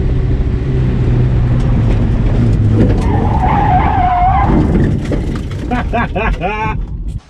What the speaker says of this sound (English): hopefully Matt will post up a picture of this thing spinning like a top